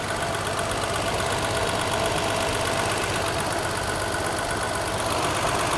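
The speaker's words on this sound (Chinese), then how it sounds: "我们来看看这个怠速这怠速相当稳定的" A repaired Mercedes W126 280SEL, with a fuel distributor just overhauled and low compression in the fifth cylinder, idles close up with a steady, continuous engine drone and an even ticking rhythm, with no voices.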